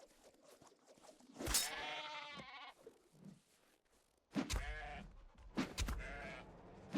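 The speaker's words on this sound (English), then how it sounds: "Cannot shear a wild sheep." Wild sheep in a survival video game bleat in a few separate drawn-out calls with quiet gaps between them, fairly close and clear, with no talking over them.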